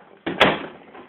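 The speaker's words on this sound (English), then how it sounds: "I've got to close the door." A door swings shut with a single sharp, close thud that trails off into a short rumble in an off-grid home with a wood heater.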